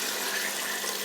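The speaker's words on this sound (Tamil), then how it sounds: "தண்ணி ஊற்றிக்கலாம்." Water poured into rice for a country-chicken biryani: a short, even rush of pouring liquid, close and continuous.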